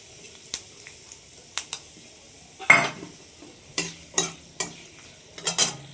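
Dried red chillies and curry leaves dropped into hot oil for tempering while making sambar, giving several short sharp sizzling bursts and crackles with quiet gaps between them, close by and fairly loud.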